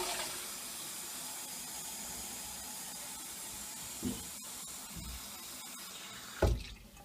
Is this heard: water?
yes